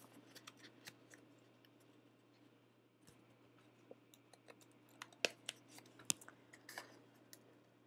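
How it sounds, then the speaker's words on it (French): Scissors snip through paper for a small spring-themed mini album: soft, close, irregular cutting clicks and crisp snips, a few louder cuts toward the end, with no one speaking. "Je vais prendre ma plus jolie paire de ciseaux, je vais me mettre sur l'arrière et je vais hop, enlever le petit centimètre que je viens de plier."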